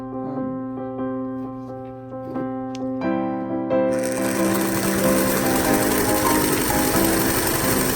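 A sewing machine stitches a plaid fabric shawl, running steadily up close at a moderate pace and growing louder and busier partway through, with no talking.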